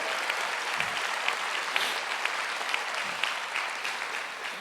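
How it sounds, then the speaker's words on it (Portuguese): A church congregation claps steadily and energetically during a sermon, a dense wash of applause with scattered sharper claps standing out, continuing evenly throughout without any voices. "Aplauda o Rei dos Reis"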